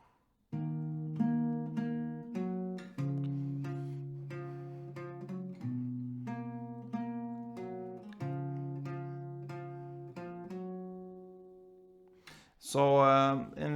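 An acoustic guitar plays the intro of a song as a clear repeating sequence of picked notes, close and alone, ending with a brief strummed sound.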